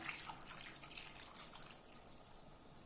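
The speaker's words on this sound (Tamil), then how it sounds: "தண்ணி ஊற்றி வேக வச்சுக்கலாம்." Faint water trickling and splashing into a pan of elephant foot yam being cooked, soft and continuous, with no talking.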